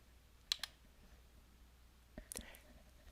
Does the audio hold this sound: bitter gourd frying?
no